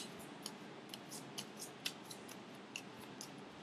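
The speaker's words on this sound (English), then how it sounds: "first I'm gonna shuffle the deck" A deck of playing cards is shuffled for a magic trick, producing quiet, crisp ticking snaps at irregular intervals over a soft hiss, close by and without any speech.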